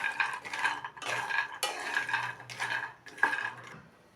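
Cashews dry-roasting in a pan are stirred in about five rhythmic strokes, each a close, rattling scrape of nuts sliding against the metal, with short pauses between.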